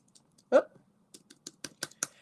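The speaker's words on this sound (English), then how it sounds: "I'm typing it in over here. I'll type it in." Typing on a computer keyboard: one louder tap, then a sparse run of separate key clicks at an uneven pace, close by in a quiet room.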